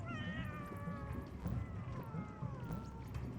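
Cat in the video game Animal Well: a run of several drawn-out, wavering meows that fall in pitch, fairly faint, over a low rumbling game background, with no voices.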